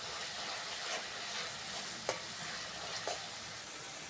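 Bengali masala paste stir-fried in a pan with a little water for a bottle gourd leaf dish, a continuous close sizzle broken by a few sharp spatula scrapes.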